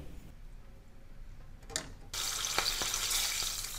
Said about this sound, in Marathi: आता बटाटा वड्याबरोबरची हिरवी मिरची तळूया.